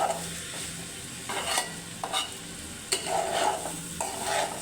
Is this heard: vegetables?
yes